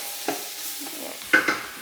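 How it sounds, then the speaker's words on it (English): Beef stirred while frying in a pot for kale soup, with a soft steady sizzle broken by a few sharp scraping clicks of the spoon, close and moderately loud. "We're going to keep an eye on our beef, stirring away over here."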